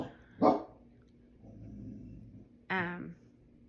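A dog barks twice nearby, with a pause of quiet room sound between the two short, loud bursts.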